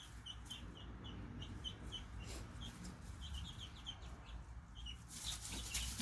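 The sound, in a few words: chickens fighting on a farm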